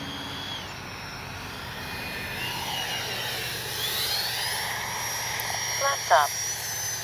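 An FMS Integral 80mm RC jet plane flying low makes a steady, fairly loud ducted-fan whine that rises and sweeps in pitch as it passes near, with brief voice sounds toward the end.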